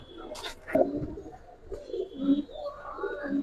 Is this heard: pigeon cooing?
yes